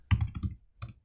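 Quick bursts of keystrokes on a computer keyboard as a URL is typed: a short run of clicks, a pause, then one more brief cluster, close and clear.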